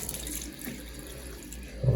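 Water runs steadily from a tap over a burnt finger, a continuous close rush that swells briefly louder at the end.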